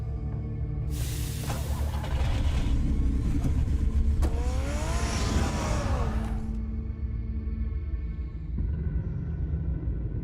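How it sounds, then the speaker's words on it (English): A car engine in the Telltale Batman video game revs up loudly with a rising whine, holds a strong roar for several seconds, then eases back to a steady rumble. "Get the car ready, Alfred."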